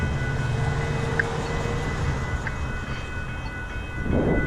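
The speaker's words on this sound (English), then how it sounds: "All right, the train is coming." A train approaches a railroad crossing with traffic-signal preemption on the Newmarket subdivision in Barrie, a steady low rumble of rolling cars that builds slightly, with faint tonal ringing and a swell of noise near the end.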